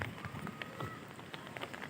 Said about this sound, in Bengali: খুব ভালো বৃষ্টি পড়ছে ভিতরে